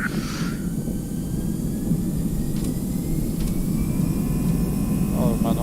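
An Airbus A321 in the X-Plane 11 simulator rolls for takeoff on runway 12 with a steady, loud jet engine roar and rumble, while people talk over it and a brief radio beep sounds.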